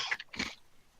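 Someone munches Pocky snack sticks close to the mic, giving two or three quick, crisp crunchy bites in under a second, quiet and alone.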